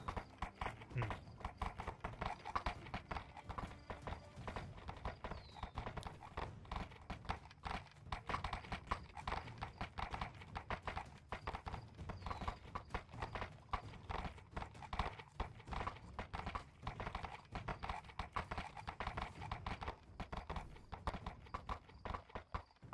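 Horse hooves clatter in a video game, a fast, continuous clip-clop of several riders galloping at a steady pace for over twenty seconds, low in level with no clear talk over it.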